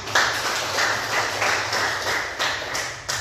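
Classroom students clapping for a presenting group, a close, uneven patter of hand claps in pulsing bursts that continues throughout at moderate volume.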